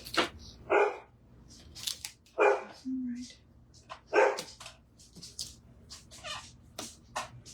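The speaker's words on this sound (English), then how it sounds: "He is the guard dog." A guard dog barks repeatedly at a house while someone paints a damask pattern, sharp close barks in irregular bursts mixed with household noise and occasional talk.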